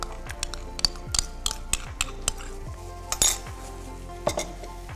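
Yogurt spooned into a bowl to make raita. A metal spoon clinks and taps against the bowl in a quick, irregular series of close, sharp knocks.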